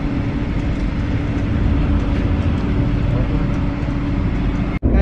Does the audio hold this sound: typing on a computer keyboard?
no